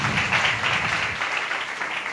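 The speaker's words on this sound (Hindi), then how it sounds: "और जोर से ताली बजा करके परमेश्वर का धन्यवाद करें।" A church congregation claps loudly and steadily at a worship service, giving a dense, even patter of many hands that fills the room without talk.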